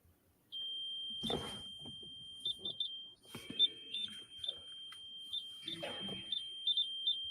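A constant high electronic tone sounds inside a house, with short repeated beeps over it in uneven clusters. Thumps and rustling handling noises occur nearby.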